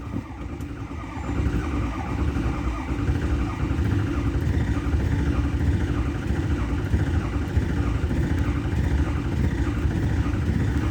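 A 2006 Ford F250 Super Duty with the 6.0 Power Stroke diesel runs rough after a hard start, a steady low rumbling engine drone that holds constant and fairly close for the whole stretch.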